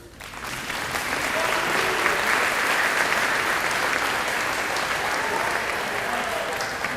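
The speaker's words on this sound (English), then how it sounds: "Another round of applause, please." An audience at a 2018 Warren Central high school athletic banquet applauds in a dense, sustained wash of clapping that swells quickly and holds steady at full volume for several seconds.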